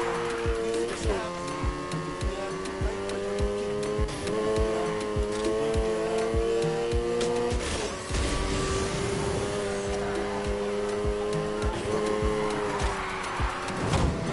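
A car is driven hard around barriers on a racing game track, with a loud, continuous engine drone whose pitch climbs and drops through gear changes and short bursts of tire noise, engine filling the whole stretch.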